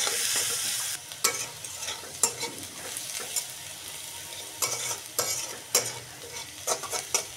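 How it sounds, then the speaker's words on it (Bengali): Chopped onions fry in oil in a kadai while a spatula stirs them, with a soft continuous sizzle broken by about a dozen sharp scraping strokes at an irregular rhythm. "পেঁয়াজগুলো আমি সুন্দর করে ভেজে নিচ্ছি"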